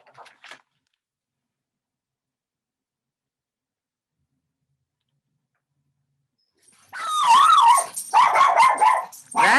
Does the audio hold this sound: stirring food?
no